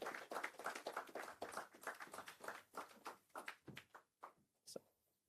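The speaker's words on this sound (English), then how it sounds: "Let's clap as Mr. Udeme Ufot come up." Audience at a community sharing-experience event clapping as a speaker walks up, brisk scattered hand claps that thin out into a few isolated claps and fade to quiet, faint overall.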